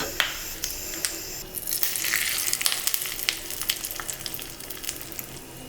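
Fresh curry leaves crackle and sizzle in hot oil with urad dal and dried red chillies, a tempering for beetroot chutney. The frying hiss is steady and close, with sharp spatters throughout and no talk.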